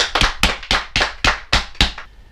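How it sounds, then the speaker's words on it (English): A small group claps in a handful of sharp, evenly spaced bursts, about seven loud close claps in a row in a room being set up with bunk beds. "Great round of applause."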